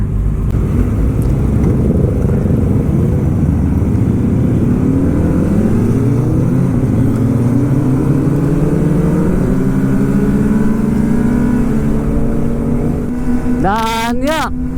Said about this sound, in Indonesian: kalau udah San Mori gini, knalpotnya banyak yang lebih kencang dari saya